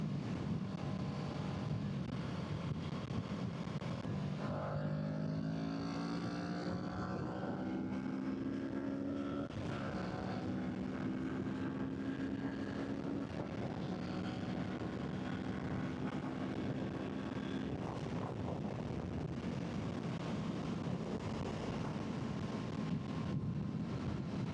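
Wind noise buffets the rider of a Kawasaki Z650 motorcycle at highway speed, a constant loud rushing roar with the engine droning beneath and its pitch rising through the gears.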